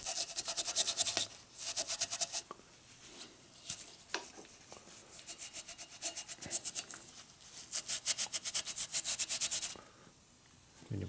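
A Harley shovelhead motor case being scrubbed to bare metal, with bursts of fast, rhythmic abrasive rubbing strokes up close, separated by brief pauses.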